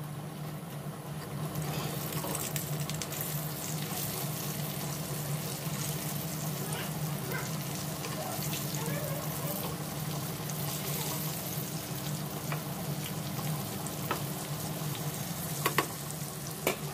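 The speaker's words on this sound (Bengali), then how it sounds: "এখানে কতগুলো চিকেন ফ্রাই করতেছি" Many chicken pieces fry in hot oil with a steady, dense crackle and sizzle that holds evenly from start to finish. Occasional light clicks and scrapes sound near the end.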